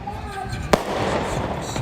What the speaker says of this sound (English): Fireworks are being shot off the top of the ramp